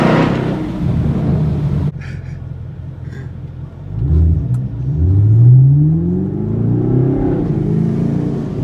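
A Honda Prelude engine revs hard after a brief rumble, rising in a long pitch sweep that swells, then holds at a loud, close roar with no one speaking.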